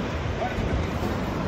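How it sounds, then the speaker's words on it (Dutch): Wind gusting along the Algarve coast in Portugal, a constant loud roar buffeting the microphone with surf mixed underneath. "Het waait een beetje jongens."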